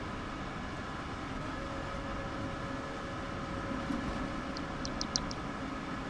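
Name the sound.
train running in the video game Train Sim World 6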